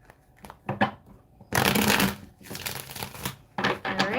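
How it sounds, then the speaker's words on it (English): Tarot cards being shuffled close by in a few quick riffling bursts, with short pauses between them and no talking. "I'll just give you a couple of shuffles here"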